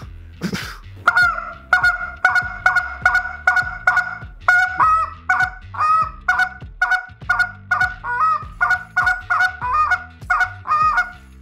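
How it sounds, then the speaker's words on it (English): A hand-blown goose call runs through a steady cadence of loud, close honks and quick clucks, about a dozen evenly spaced notes with shorter spit notes mixed in, no talking. "once you learn to do the honks, the clucks, the moans, the spit notes, you can start putting things together"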